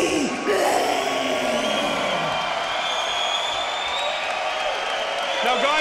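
At an XMMA mixed martial arts event, an arena crowd cheers steadily from a distance, a broad roar with scattered whoops and shouts, while a commentator talks over it.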